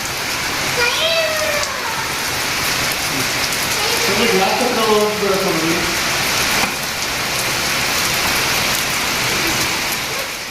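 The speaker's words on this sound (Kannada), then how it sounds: "ಮಳೆ ಎಲ್ಲ ಬಂದರೆ ಒಂದು ಖುಷಿ ಅದು ಎಸ್ಪೆಷಲಿ ಟೆರೆಸ್ ಮೇಲೆ ಕುತ್ಕೊಂಡು ನೋಡ್ತಾ ಇರೋದು" Steady, hissing rain pours down on a terrace without a break in the evening, with faint voices briefly audible in the middle.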